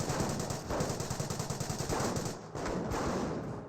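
Rapid machine-gun bursts rattle through a Company of Heroes 1 battle between British and Wehrmacht forces, loud and continuous, with overlapping gunfire and brief shifts in intensity.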